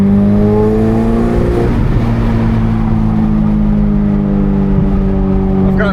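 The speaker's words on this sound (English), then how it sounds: "that Kline sounds amazing on this car" Ferrari 488 Pista fitted with a Kline Inconel exhaust, heard from inside while driving: a loud, steady engine drone with strong harmonic tones that dip and rise slightly as the revs shift, continuous throughout.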